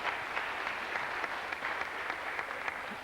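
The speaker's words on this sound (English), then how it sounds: "Give her another round of applause there." A steady round of applause from the audience at a memorial concert in Roslea, many hands clapping evenly at a moderate distance, with no talking over it.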